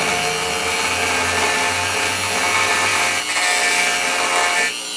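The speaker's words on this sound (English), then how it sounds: "the thumb to stabilize the cutter as I make my cut" A cutter works through a guitar fingerboard in a steady, loud, continuous rasping scrape, a sustained wood-cutting grind running nearly the whole time before tapering off at the end.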